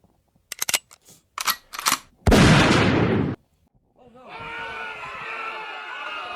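Gunshots in a comedy skit come as a few sharp, close pops followed by a loud, sustained blast lasting about a second, then a quieter ringing, humming tone after a brief silence.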